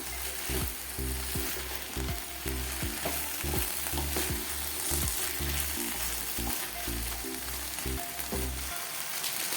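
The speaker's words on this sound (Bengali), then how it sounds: "এভাবে আমি নাড়তে থাকবো 2 থেকে 3 মিনিট মতো। আমি এটা অল্প তেলে করার চেষ্টা করেছি।" Okra frying in a little oil, stirred continuously, with a dense crackling sizzle under a rhythmic run of spatula scrapes and taps against the pan.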